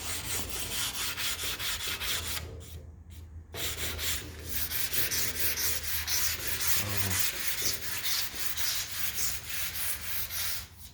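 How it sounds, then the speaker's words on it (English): Steady rubbing rasp of sandpaper working dried glue off the end of a mahogany tongue and groove board, continuous and close, with a brief pause near the three-second mark before the strokes resume. "but you can sand it right off."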